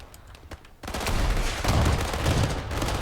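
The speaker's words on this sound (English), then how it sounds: "You can see me with my rocket launcher just kind of shooting at the floor" Rocket launcher firing in the WWII shooter Days of War, loud overlapping blasts and gunfire rolling into a dense, sustained barrage after a brief quieter start.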